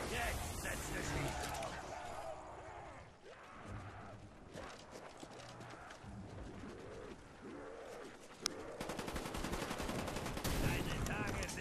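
Gunfire in Call of Duty Black Ops zombies, Call of the Dead map, rapid bursts of shots under constant game noise, with someone talking over it and a sharp louder shot near the end.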